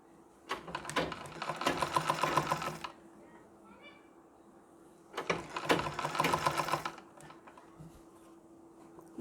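A sewing machine stitches pleats into a Nauvari saree in two bursts of rapid, close mechanical whirring and clatter, with quiet pauses between and after.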